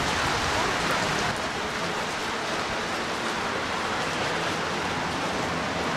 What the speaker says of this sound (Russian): Ливень в апреле месяце, в начале апреля